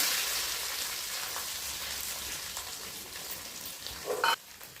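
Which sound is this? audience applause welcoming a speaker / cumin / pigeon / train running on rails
cumin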